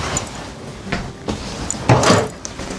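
A cabinet door in a 2026 Keystone Springdale Mini 1760BH RV trailer opens and shuts close by, giving a few light knocks and a final firmer clack, with no talk over it.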